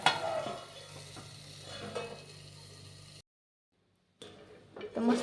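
Stuffed bitter gourd mixture is stirred in a pan, with soft scraping and a faint sizzle for about three seconds, then a second of silence before more stirring resumes at close range.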